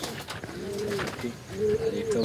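Madrasi pigeons of Chennai breed coo in a loft, several rolling calls rising and falling close by, with someone talking intermittently over them.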